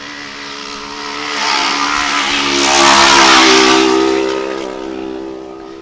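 A custom single-seat Polaris Razor UTV with a Craftworks supercharger launches off the line in a desert race, engine roaring louder as it passes close by, then fading slightly as it pulls away.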